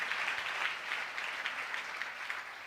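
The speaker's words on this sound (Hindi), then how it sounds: "जोरदार तालियां बजाएं उस शख्स के लिए" An audience claps in a dense, even burst of applause that lasts a few seconds at moderate volume, with no voices over it.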